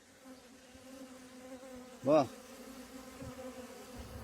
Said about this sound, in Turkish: Evet arkadaşlar arılara bakım yapıyoruz.